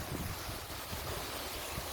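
Cool mountain stream water flows steadily along a forest walking trail near an arboretum, a close, continuous broadband rush with no talking over it.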